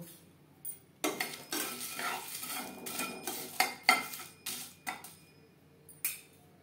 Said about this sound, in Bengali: মশলাগুলো রোস্ট করব লো ফ্লেমে। মশলা আমি হালকা করে ভেজে নেব।